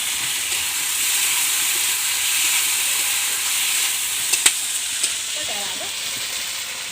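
Ginger paste and tomatoes fry in a pan for a paneer masala, a steady loud sizzle and hiss throughout, with a few sharp clicks of a spoon against the pan near the end.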